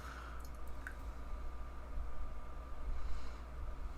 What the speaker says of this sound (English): Let's see how this guy pours.